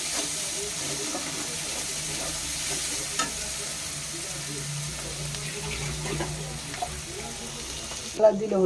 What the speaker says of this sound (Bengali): হলুদের গুঁড়ো, ভালো করে মশলাটা মিশিয়ে নেওয়া হচ্ছে